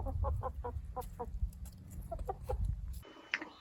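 Farmyard chickens cluck in quick, repeated bursts close by, a rhythmic run of short calls over a low background hum, with no talking.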